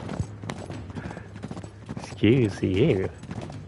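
Horse hooves clip-clop in Uncharted 3: Drake's Deception, steady and moderately close beneath people talking, with a loud whinny-like game sound near the end.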